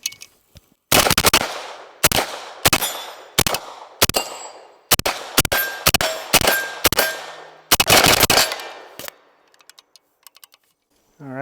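About a dozen loud, sharp gunshots fired in an uneven rapid string while testing an OKP7 red dot sight, each crack ringing briefly before the next, then the firing stops and the rest goes quiet.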